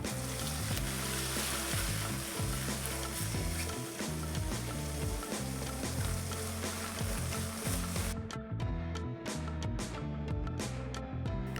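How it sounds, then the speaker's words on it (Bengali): Ingredients for a sweet, sour and spicy olive pickle fry in hot oil, a loud, continuous close-up sizzle with scraping stirring strokes throughout; no one talks. "নেড়ে চেড়ে সবকিছু ভেজে নেব 2 মিনিট।"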